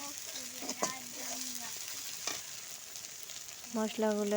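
Cumin and ginger paste fry with spices in a pan, giving a steady moderate sizzle with a few stirring scrapes and knocks throughout.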